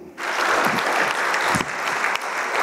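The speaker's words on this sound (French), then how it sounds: "Sous vos applaudissements." An audience at an exhibition presentation claps steadily and loudly for a few seconds, a dense wash of applause with no voices rising above it.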